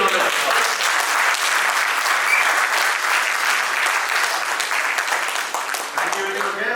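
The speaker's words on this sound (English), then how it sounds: "A big round of applause." An audience at an alumni silver jubilee reunion gives a sustained round of applause, dense and steady throughout and tapering slightly at the end, with a voice speaking over it.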